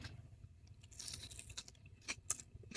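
Quiet, crisp crunching and chewing of fried gorengan snacks, a few louder crackly bites scattered through a soft steady chewing background, with no talking.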